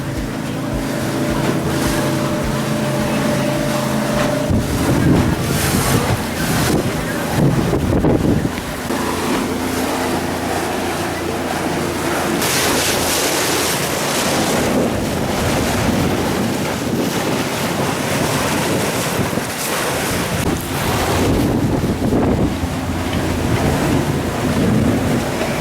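Lake waves slap against a houseboat on a windy lake, a steady rough wash with gusty wind buffeting the microphone throughout, fairly loud and continuous with a low rumble underneath.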